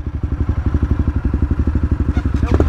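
A trail motorcycle engine turns over and catches, chugging in a fast, steady rhythmic thump close by, with a brief rise in revs at the end.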